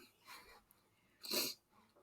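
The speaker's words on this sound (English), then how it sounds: "pardon me, I'm going to sneeze." A single short sneeze bursts out after a soft breath, quick and fairly close, in an otherwise quiet room.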